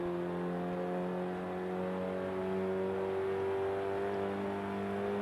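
Renault Megane in Forza Motorsport 5 accelerating hard out of a corner, a steady loud engine drone with harmonic tones climbing slowly in pitch as it pulls through the gears, with no talk.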